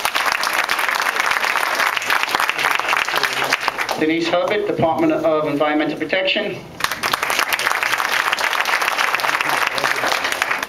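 A town hall audience claps for a Department of Transportation official, a dense wash of hands that pauses briefly while someone speaks over a microphone, then resumes strongly.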